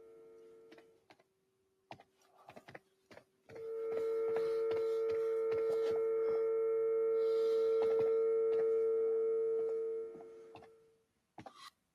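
A telephone dial tone used as a debug tone holds steady and loud for about six seconds, preceded and followed by scattered faint clicks and taps, with no voices.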